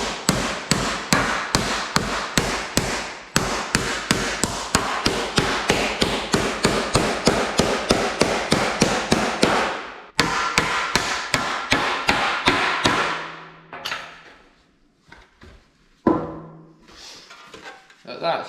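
Sheet metal being hammered to stretch a Jaguar E-Type wing around the headlight area, rapid loud evenly spaced metallic blows repeated dozens of times, with a short pause mid-run before the strikes resume and then stop.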